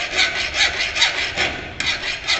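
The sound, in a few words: hand filing a chamfer on a metal workpiece edge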